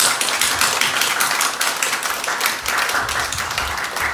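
A church congregation at a Sunday service marking the church's 20th anniversary claps steadily and vigorously, a dense, continuous round of applause from the whole room.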